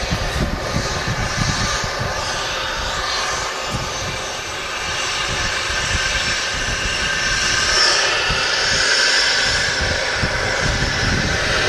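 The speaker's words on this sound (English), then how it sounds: "Beautiful BizJet just touching down here" A business jet touches down at Manchester Airport, its engine roar steady and loud throughout, swelling slightly toward the end with no voices over it.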